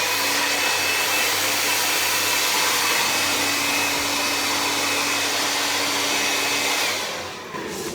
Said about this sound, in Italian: raccogliete i capelli alla radice e passate il phon.